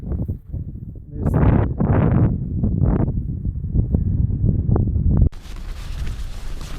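Strong wind buffeting a microphone at a campsite in Haugastøl, Norway, with loud gusty roaring bursts rising and falling for several seconds before a sudden cut to a quieter hiss.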